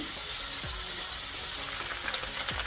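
Shrimp for fried rice fry in a pan with a steady, close sizzle that holds evenly throughout, with a few soft scrapes from stirring and no talking.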